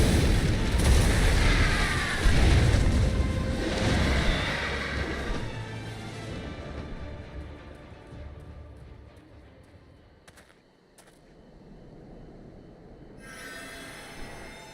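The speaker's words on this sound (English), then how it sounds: "Fire mana cannon." A mana cannon fires in Final Fantasy XIV with a heavy booming blast that rumbles and rolls for several seconds. The blast fades into quieter game ambience and brief sharp effects.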